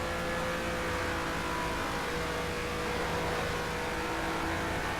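An upgraded Renault race car at Suzuka in a racing video game, its steady engine whine droning continuously with a broad, even roar and no voices.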